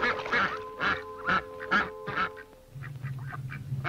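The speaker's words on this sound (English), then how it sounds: "A flock of mallards are coming in." A flock of mallard ducks in an animated cartoon quacking in a loud, close run of five or six honking calls, followed by a lower, buzzier quacking that continues to the end.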